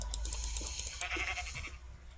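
Short bleats from sheep in the Minecraft video game, a few quick calls at moderate level, with clicking game and keyboard sounds around them.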